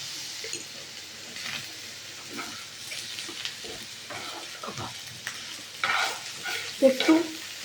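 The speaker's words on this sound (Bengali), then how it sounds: "একটু 2 মিনিট এটা নাড়তে হবে।" Egg polao being stirred in a pot after a splash of rose water, with soft scraping stirs and a faint sizzle running through, plus a few louder clinks of the spoon against the pot near the end.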